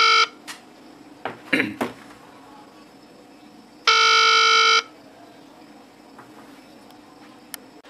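A loud electronic ringtone sounds from an HW22 Plus smartwatch in one sustained burst of about a second, after some clanks and handling noises.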